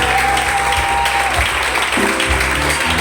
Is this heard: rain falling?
no